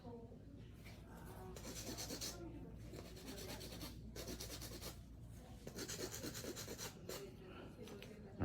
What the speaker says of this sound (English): Everything finished off with a little bit of front-facing filing to make sure my shape's nice and